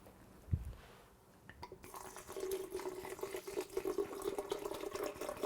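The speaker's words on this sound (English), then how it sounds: "we're just going to add enough water to cover." Water runs steadily into a blender jar to cover ingredients for a vegan ferment, a continuous splashing pour after a brief bump, close and moderately loud.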